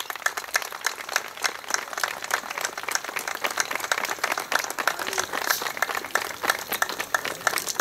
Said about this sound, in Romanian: vă rog să-i aplaudați, Tima din Răspopa.